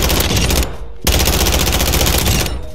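Rapid automatic rifle fire in Warzone, a dense sustained burst that breaks off briefly near the middle and then resumes at full loudness, close and dominant with no talk.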